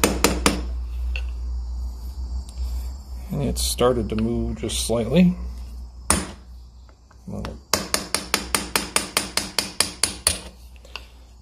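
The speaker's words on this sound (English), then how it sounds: "now we're going to work on tapping our piston pin out. And we really want to tap and not hammer hard." A piston pin is tapped out of an engine piston during a Graham Supercharged engine overhaul: a quick series of sharp, evenly spaced metallic taps near the end, with someone talking earlier.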